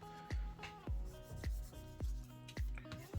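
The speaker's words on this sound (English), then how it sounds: "Just get a bit of cloth, give the alcohol a bit of a helping hand just to dry off" A cloth rubs over a MacBook Air A2337 to wipe away alcohol in a series of rhythmic, close, soft scrubbing strokes, roughly two per second, with a faint steady hum in the background.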